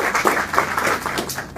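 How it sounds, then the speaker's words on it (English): Applause at a government press briefing for a newly introduced communication officer, a short burst of steady clapping from a room audience, fairly close and without talk. "give her one of applause again"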